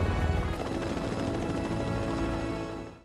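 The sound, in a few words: helicopter landing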